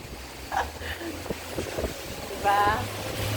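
Strong typhoon wind buffets the microphone in uneven gusts, with rumbling low gusts and a louder surge near the end, while a voice speaks briefly in between.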